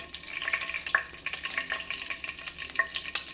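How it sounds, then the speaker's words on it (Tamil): Fenugreek seeds crackle and sizzle in hot oil for a village-style fish curry, a steady busy frying hiss with stirring scrapes and small pops, close and continuous with no talking. "வெந்தயம் போட்டு நல்லா பொரிஞ்சு வரட்டும்."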